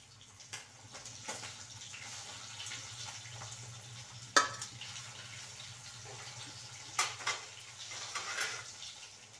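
Fish fries in a pan with a soft, steady sizzle at low volume, broken by a few sharp clinks of a utensil against cookware.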